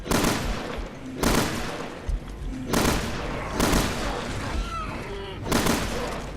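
Gunfire in the survival horror game Resident Evil Revelations 2: repeated loud bursts of shots, several separate volleys spaced about a second apart, with a faint voice beneath.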